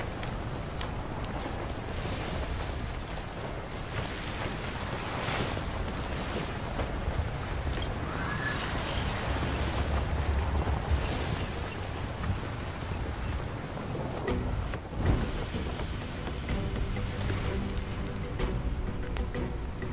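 Steady wind blows across open water around a sailing boat, with a constant roar of gusts and surf and buffeting on the microphone that runs throughout without pause.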